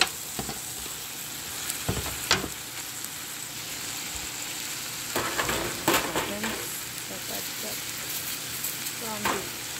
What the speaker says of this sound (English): I'm gonna add the ground beef now